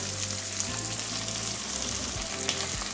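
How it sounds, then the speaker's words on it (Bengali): Pieces of taro sizzle steadily as they fry in oil in a pan, a dense continuous crackle at close range with small spits and pops, and no voices over it. "কচুগুলো আমার ভাজা হয়ে গেছে"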